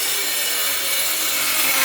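An angle grinder cuts galvanised steel pieces clamped in a vise, producing a continuous harsh, bright, high-pitched grinding screech at close range without pause.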